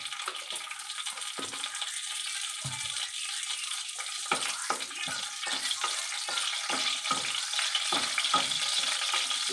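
Nigella seeds and dried red chili frying in hot oil in a pan, a steady close sizzle and crackle with stirring scrapes throughout, no talk.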